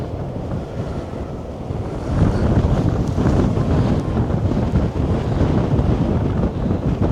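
High winds hammer a modified Taiji 2 tent, a dense, loud rush of buffeting air that swells sharply after a calmer start and keeps roaring steadily, no one talking.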